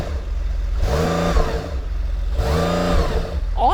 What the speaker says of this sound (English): Lewis, give it some revs.